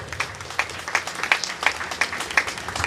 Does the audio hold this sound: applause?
yes